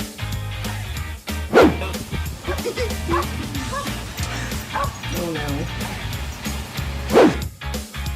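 A small dog yips, whimpers and barks in short excited bursts close by indoors while a person talks over it.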